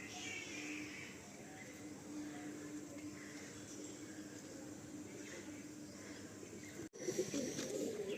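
Pigeons at an Andhra pigeon loft in Sodepur, with a low continuous cooing and murmuring under steady background noise, interrupted by a brief gap near the end before louder shuffling resumes.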